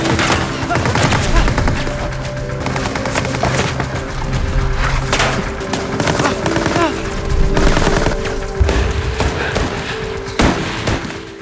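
WWII German soldiers firing from a tunnel: dense bursts of machine gun fire crackle and rattle continuously, with sharp overlapping shots, some heavier booms, and a faint voice underneath.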